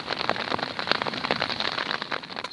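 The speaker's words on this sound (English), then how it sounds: "sort of rain's very faint outside, sort of comes and goes really, but it's still sort of just lightly, you can hear it" Light rain patters on the fabric of a bivvy tent pitched for a night wild camp on the Suffolk coast at Shingle Street, a close, dense crackle of drops with small irregular bursts and no voices.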